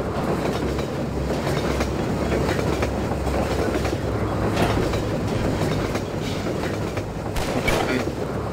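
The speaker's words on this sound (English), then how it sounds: "Are you gonna try and jump on the train while it's still moving?" A moving train in a video game rumbles along continuously with a clickety-clack rhythm of wheels on rails, a steady mid-level roar with occasional sharper clanks.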